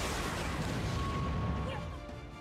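An explosion from the Attack on Titan anime arrives as a loud, dense, sustained roar of rumbling noise across the whole range that slowly fades toward the end, sounding like a single massive blast.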